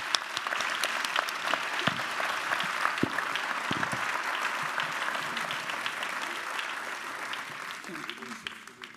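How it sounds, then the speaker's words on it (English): Audience at a ChangeNOW 2024 conference session applauding its panelists: sustained, dense clapping at close range that holds steady for several seconds, then thins out at the end as a few voices come through. "Please give our panelists a big round of applause."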